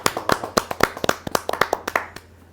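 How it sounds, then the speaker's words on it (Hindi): A small audience at a poets' gathering clapping to welcome a poet, a short burst of distinct, close hand claps in an uneven rhythm that fades out after about two seconds. "जोरदार ताली के साथ"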